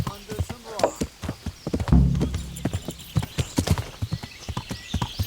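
Horse hooves gallop in the video game Kingdom Come Deliverance, a rapid, close clip-clop rhythm with a neigh partway through and a voice talking over it.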